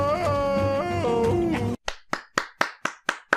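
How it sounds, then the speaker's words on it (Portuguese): Applause from a small group of hands: a short run of distinct, sharp claps in steady rhythm, close and fairly loud, following a sustained sung or musical tone. "Palmas para ele."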